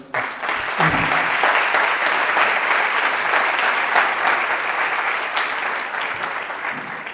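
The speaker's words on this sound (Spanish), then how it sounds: "Yo quería que os dierais un fuerte aplauso por todos los aquí presentes que habéis venido" Audience at a conference on addiction prevention and recovery in Macael breaks into sustained, loud applause, dense clapping filling the room steadily for several seconds.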